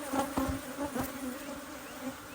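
Honey bees buzz at an open beehive during a hive inspection, a steady droning hum with faint wingbeat tones, fairly close and continuous, no voices.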